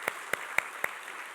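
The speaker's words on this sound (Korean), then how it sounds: "한번 박수 한번 주셨으면 감사하겠습니다." Applause in a church service for teachers: four sharp, separate claps in quick succession near the microphone, then a quiet room tone.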